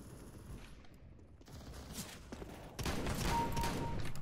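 Gunfire in the shooter game CS:GO rattles in fast bursts, starting sparse and fairly faint, then swelling into a dense, louder stretch of rapid shots toward the end.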